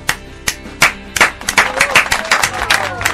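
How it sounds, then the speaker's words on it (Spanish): Studio audience on a television show clapping: sparse, sharp claps in the first second that quickly thicken into steady, fairly close applause lasting about three seconds. "Alberto Mandrake Wolf, para quien pide un aplauso"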